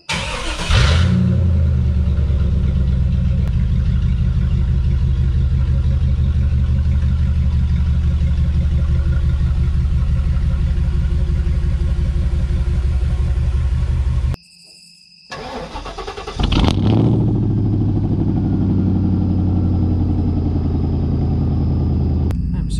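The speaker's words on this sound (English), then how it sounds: "Happy Larry cranked up. Listen, it's not a Larry video if we don't make a little noise." A pickup truck engine is cranked and left running up close, with a loud, steady low rumble that holds for about fourteen seconds, cuts briefly, then resumes at full strength.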